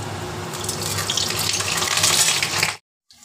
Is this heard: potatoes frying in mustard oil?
yes